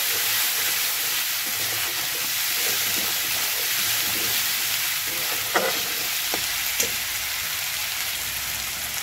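Spices with Kashmiri chili, salt and turmeric fry in a pan for a fish-head curry, giving a close, continuous hiss and sizzle with a few faint stirring knocks and no speech.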